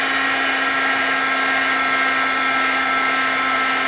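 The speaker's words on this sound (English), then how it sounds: "I'm going to take my heat gun, so it is going to be a little loud for a minute." A heat gun runs steadily throughout, a loud, continuous blowing roar with a constant motor hum, heard up close with no voices.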